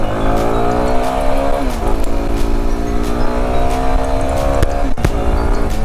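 A 2025 Yezdi Adventure motorcycle launches hard. Its loud, close engine note climbs steadily through two quick gear changes, with no voices.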